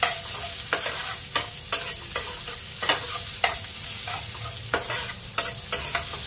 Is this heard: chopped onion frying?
yes